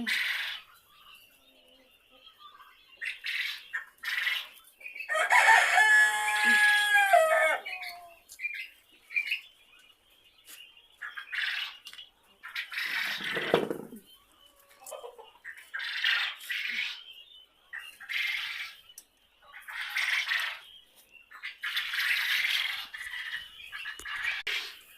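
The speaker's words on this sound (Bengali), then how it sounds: "ওদের বয়স আজকে" 33-day-old chicks cheep and peep in quick, overlapping bursts, a busy chorus that swells loudest early on, then continues in scattered clusters.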